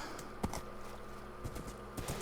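Hooves clip-clopping from horses in a video game, a few sparse, soft clops over steady background game noise, with no talking.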